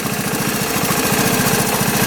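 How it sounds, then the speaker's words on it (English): A small engine idles steadily at low revs, a close, even rhythmic chugging that holds without change throughout. "That thing is idling nice and low."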